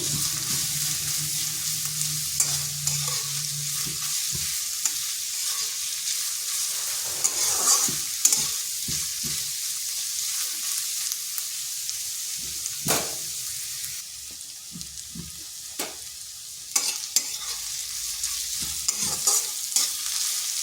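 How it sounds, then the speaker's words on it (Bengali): Onion being lightly fried in a pan sizzles softly and continuously while a utensil stirs it, with repeated scraping and clinking strokes scattered over the sizzle and no talking. "পেঁয়াজটাকে হালকা একটু ভেজে নিচ্ছি"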